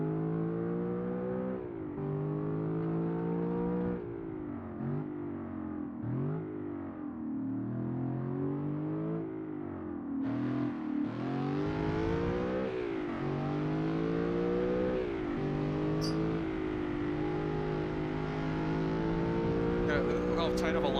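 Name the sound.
racing car engine in a video game, Project Academy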